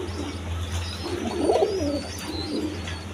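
Pigeons, a Mosoldom male and a Chulli female with two chicks, coo in soft repeated rolling phrases close by, over a steady low background hum.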